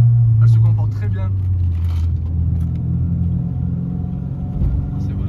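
A modified Renault Clio 2 RS Phase 2 fitted with short springs and strut braces rumbles along the road with a steady low engine drone, close up from inside the cabin, while someone talks over it.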